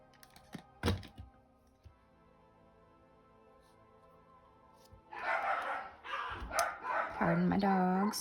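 Dogs bark indoors in a few sharp bursts, then a louder stretch of barking and whining near the end, with keyboard-like tapping and thumps earlier in the background.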